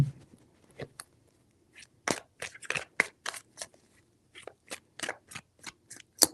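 Tarot cards being shuffled in a series of crisp, quick riffling bursts and flicks, fairly close and moderately quiet, with short pauses between handfuls.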